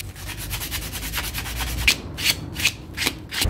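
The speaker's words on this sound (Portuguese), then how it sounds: "Passa uma lixinha para tirar esse brilho dela." Sandpaper is rubbed by hand over a painted part of a helmet camera mount to dull its gloss. The scratchy back-and-forth strokes are steady at first, then become distinct rhythmic swipes, with no talking.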